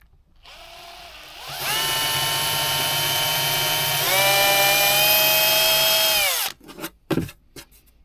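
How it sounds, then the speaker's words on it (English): A small pilot drill spins up and whines steadily into wood for several seconds, pitch dropping slightly under load, then stops, followed by a few clunks. "I'm just going to go through with a small pilot drill"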